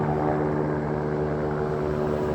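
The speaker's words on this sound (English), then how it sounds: "Just wanted you to hear the helicopter." A helicopter passes overhead with a loud, continuous rotor and engine drone, steady and dense throughout, with no voices over it.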